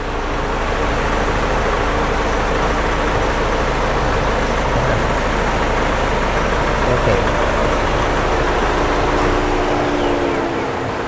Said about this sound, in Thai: สุดท้ายถ้าลูกค้าต้องการ ดับเครื่อง ดับเครื่องทำยังไงครับ